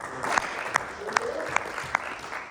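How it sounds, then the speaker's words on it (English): A short burst of applause, with a few sharp claps landing in a steady rhythm over a soft murmur. "Let's give a round of applause."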